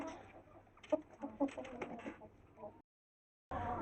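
Chickens clucking at a backyard coop, several short near clucks and calls in a quick irregular run, then a brief silence before the sound returns.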